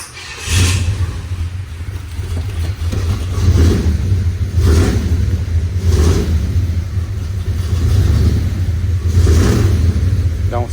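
A Chevrolet S-10 pickup with headers and an aftermarket ignition idles with a deep, loud rumble, then revs up several times in slow, regular bursts, with no talking.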